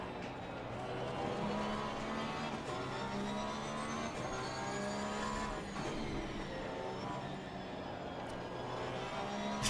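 GT3 race car engine from Assetto Corsa Competizione, a steady loud droning roar with rising and falling pitch through gear changes, continuous across the whole stretch.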